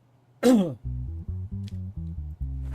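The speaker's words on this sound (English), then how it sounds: "whoever's out there coughing every single day in my courtroom and now got me coughing" A single sharp throat clear or cough close to the microphone, then a run of rhythmic tonal notes in the background.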